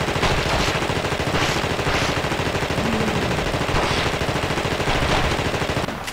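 In The Thing video game, a continuous rapid burst of automatic gunfire hammers away at a creature for several seconds, loud and unbroken, with no talk.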